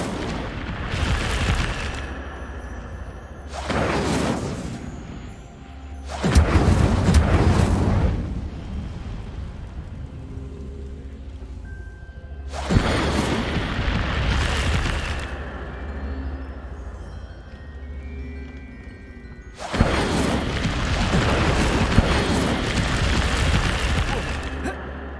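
Incendio fire spells from Hogwarts Legacy go off in about five loud, booming blasts, each a short roaring burst that fades before the next, spaced several seconds apart.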